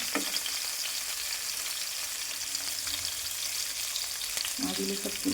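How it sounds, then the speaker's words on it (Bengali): Fish frying in hot oil until reddish, a steady close sizzle and crackle with occasional spatula scrapes and a clink near the end, no voices. "মাছগুলো দেখো লাল লাল করে ভেজে নিচ্ছি"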